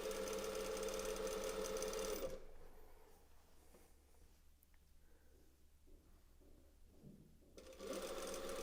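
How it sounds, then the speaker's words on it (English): A straight stitch sewing machine runs loud and steady while hemming knitwear, stopping abruptly after about two seconds; a quiet pause with small handling noises follows, then the motor starts up again near the end. "that's the downside of doing knitwear with a straight stitch machine"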